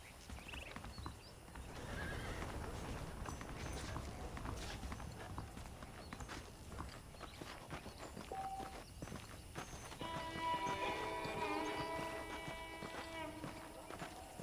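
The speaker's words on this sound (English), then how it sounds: "The horses are saddled up over here." Saddled horses in the Western video game Red Dead Redemption, with steady clip-clop hooves, snorts and a whinny up close over game ambience and music.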